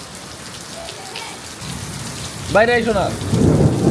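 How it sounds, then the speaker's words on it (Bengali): Thunder rumbles during a rainstorm outside a house in an open yard, with steady rain noise throughout and a louder rolling crack near the end; a person speaks briefly over it. "খালি বজ্রপাত হইতেছে"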